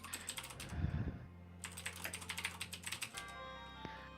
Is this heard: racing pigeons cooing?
no